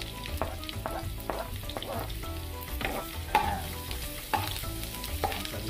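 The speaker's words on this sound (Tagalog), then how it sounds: "Okay, igisan na po natin ang onion." Chopped onion sizzles in hot oil in a pan while being stirred, a close, steady frying crackle broken by repeated scraping stirs, with no talking.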